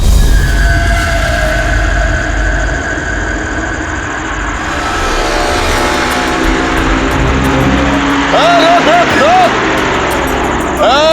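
A car engine runs loud and close, first a rough rumble that settles into a steadier idle-like drone as the vehicle comes to a stop, with a few brief squeaky tones near the end.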